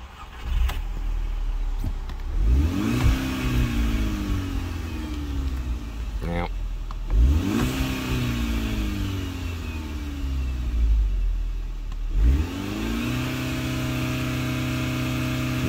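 A 2012 VW Golf engine running in neutral with the window down, revved in three distinct surges that rise and fall back toward idle, loud and close throughout.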